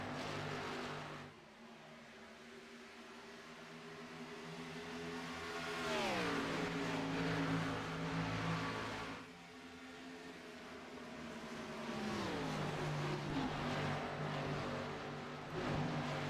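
Xfinity Series stock cars race at Las Vegas, engines droning at a distance, then swelling and falling with downshifts and accelerations as a pack battles by, the whine sweeping in pitch twice.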